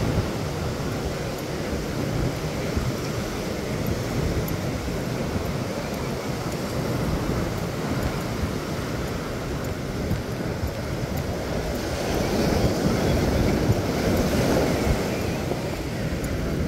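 Surf rolling onto the sand at Playa de Rosarito on a crowded Friday afternoon: a continuous wash of breaking waves mixed with wind noise, swelling louder for a few seconds near the end.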